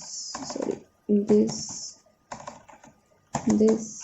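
Keys clattering on a computer keyboard in bursts of typing, with someone talking over and between them.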